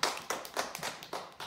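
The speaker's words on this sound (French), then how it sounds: "On applaudit encore, bravo." Children in a classroom applaud with a rapid round of clapping, about six quick bursts in a loose rhythm, close and moderately loud, with no talking over it.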